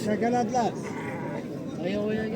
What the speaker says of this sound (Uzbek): bu yerda ham qo'ylar bor ekan.